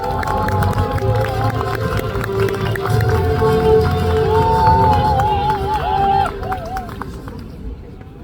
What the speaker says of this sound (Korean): 전재수 의원님을 큰 박수로 맞이해주시기 바랍니다